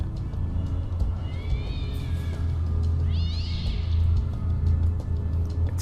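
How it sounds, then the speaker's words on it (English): A cat meows twice in the adventure game Tesla Effect, short rising cries over a steady low ambient hum, moderately near, with no talk over them. "It's a cat"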